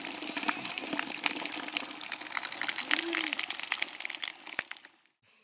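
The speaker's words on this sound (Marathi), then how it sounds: "पाऊस लय भारी येतोय" A steady, dense hiss of heavy rain or rushing water fills the scene, with a brief voice partway through, then it cuts out.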